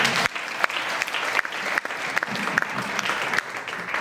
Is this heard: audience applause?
yes